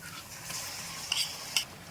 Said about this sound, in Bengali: পেঁয়াজ আদা রসুন আর কাঁচা লঙ্কা একসাথে পেস্ট করে রেখেছিলাম সেই পেস্টটা এবার দিয়ে দিচ্ছি